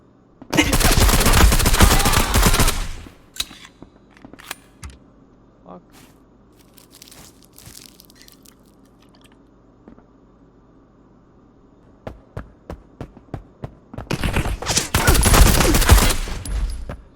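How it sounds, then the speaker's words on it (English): Gunfire from a player in the video game Marauders, two long loud bursts of automatic fire at the start and end with scattered quieter shots and game noise between, under some talk. "that is a player shooting"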